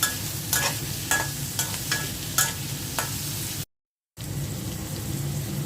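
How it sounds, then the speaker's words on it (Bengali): Dried fish fries with onion, garlic and green chili in a pan, a steady crackling sizzle broken by regular stirring scrapes, then a brief silent gap before the sizzling resumes. "পেঁয়াজ রসুনের সাথে শুটকিটাও একটু ভেজে নিই।"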